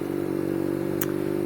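BMW R nineT motorcycle fitted with an aftermarket end can and no exhaust flapper valve, its engine running with a steady low droning tone that stays loud and continuous throughout, plus a brief crackle partway through.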